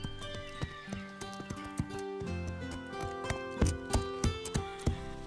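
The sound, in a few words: horse hooves clip-clopping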